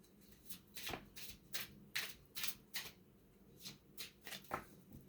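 A deck of angel number cards being shuffled, giving a quick run of crisp riffling bursts, about a dozen short papery flutters at an uneven pace, close and fairly quiet with no talking.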